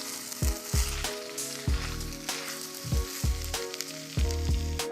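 Rice being stirred into simmering butter garlic beef, a steady sizzle broken by repeated heavy spoon thumps and scrapes against the pot, close and regular, without speech.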